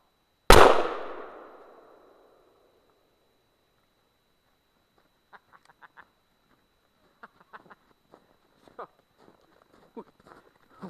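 A shotgun fires a homemade wax round carrying a .45 caliber slug, one loud close outdoor blast with a long decaying boom, followed by scattered faint clicks and handling noises.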